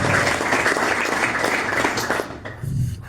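A church congregation claps together in a loud, dense burst of applause that holds steady and then tapers off.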